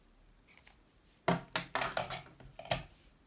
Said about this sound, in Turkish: Fazlalık ipi kesiyorum.